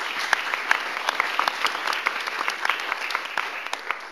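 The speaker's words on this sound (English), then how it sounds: "So can we give a round of applause to Dr." Audience applause at a Cal Poly Pomona music business panel, steady close clapping from a modest crowd that continues for several seconds without talk.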